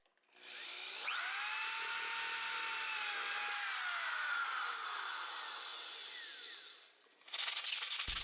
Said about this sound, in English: The holes were a little rough on the back, so I used a little sandpaper to smooth them out.